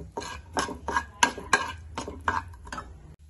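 Chopped onion frying in hot oil in a pan, stirred with a spoon that scrapes and knocks against the metal in a steady series of about eight close, distinct strokes.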